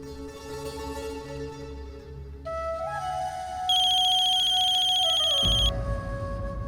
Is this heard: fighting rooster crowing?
no